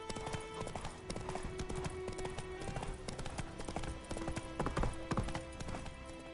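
Hooves of the horse Roach gallop in a steady, close clip-clop rhythm in a video game, with faint voices and game sounds underneath.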